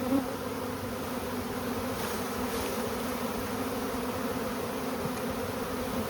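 Steady, close buzzing of many honey bees humming together at a hive, a continuous drone with no voices.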